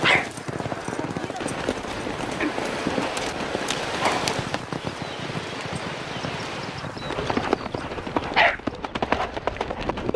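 Hooves of a nimble, agile horse of an ancient barb type clip-clop steadily throughout, mixed with outdoor noise while someone talks over them.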